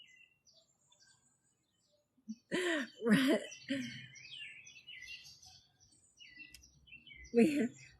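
Birds chirp and tweet busily in the background while a person clears their throat and makes a few vocal sounds up close.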